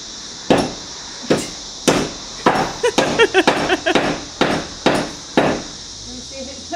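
A hammer strikes geodes inside a bag, about a dozen sharp, close thuds, some in quick clusters and others spaced apart, with faint rattling of stones in the bag.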